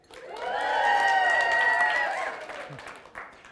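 A room full of people at a magic show yells and cheers loudly in one sustained burst with clapping underneath, swelling and then fading over a few seconds.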